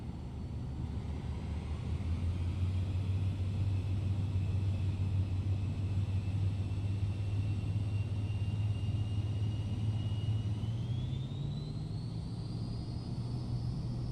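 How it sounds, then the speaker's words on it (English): Airliner engines spool up to takeoff thrust in Microsoft Flight Simulator 2024, a loud steady low roar with a sustained whine that rises in pitch near the end, continuous and alone. "Takeoff thrust set, airspeed alive."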